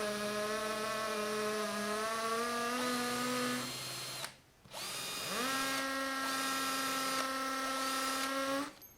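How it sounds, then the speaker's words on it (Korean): A hammer drill bores a hole into stone with a loud, rising motor whine. It runs for about four seconds, pauses briefly, then spins back up and continues steadily. "해머 기능은 비트의 회전 방향에 수직으로 타격을 해서 석재를 부수면서 구멍을 뚫어주는 기능이에요."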